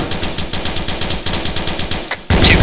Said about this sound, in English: shoot up on that hill somewhere